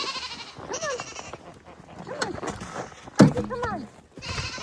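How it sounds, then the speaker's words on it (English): Goats bleat repeatedly outdoors on a snowless Alaskan winter homestead, several wavering calls close by with a short knock or thump midway, and a voice briefly heard among them. "the goats are out"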